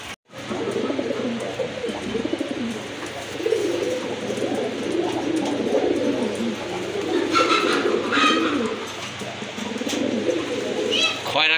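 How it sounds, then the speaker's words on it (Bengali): Pigeons at a Bangladeshi pigeon market coo steadily in low murmuring tones, nearby and continuous, with people talking throughout and a few brief higher chirps partway through. "অ্যাক্টিভ আর ফ্রেশ কবুতর।"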